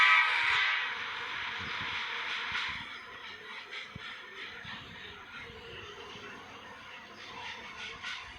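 A train rumbles along in the Indian Bike video game, with a soft mechanical drone and faint horn-like tones that fade after the opening seconds, moderately quiet with no talk.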